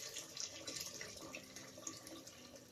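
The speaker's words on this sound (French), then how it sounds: "Je vais ajouter un peu d'eau chaude." Hot water poured into a cooking pot of chickpea soup for Moroccan harira, a quiet, steady stream of splashing and trickling heard close and alone for a few seconds.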